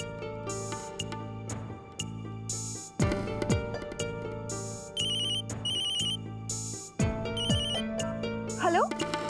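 A phone ringtone plays as a looping electronic melody in repeated bursts, loud and close, with a few short tonal blips and sweeps between phrases and no voices.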